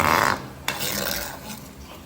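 Biko, a sticky rice cake cooked with coconut until latik forms, being stirred in a pan: a close rasping scrape, then a sharp knock of the spoon against the pan, then softer rubbing.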